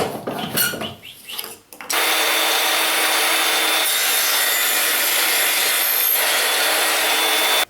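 Hand saw cutting a thin wooden strip held in a miter box, a steady continuous rasping stroke sound running loud and close for several seconds after a brief clatter of handling at the start.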